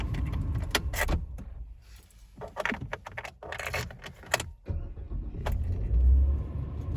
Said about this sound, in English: So now I'm just going to simply shut off and restart the car.